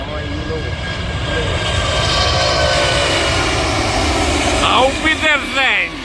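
A heavy Lufthansa Airbus A340-600 roars down the runway on its takeoff roll from Montreal, a loud, sustained jet engine rumble that builds and holds, with people talking and shouting near the end.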